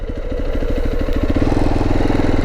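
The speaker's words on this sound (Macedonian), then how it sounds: "Ќе паркирам тука моторот, да го завртам само за враќање" A motorcycle idles close by on sandy ground at a black-sand beach in Georgia as it is being parked. The engine gives a steady, loud, throbbing putter throughout, with no speech.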